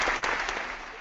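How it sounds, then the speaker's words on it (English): Brief burst of applause, a short wash of clapping that fades within about a second. "Hit the applause for that."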